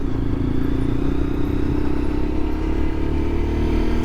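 Lexmoto LXR 125 motorcycle engine running steadily with a low drone and busy mechanical rattle, loud and close throughout with no speech.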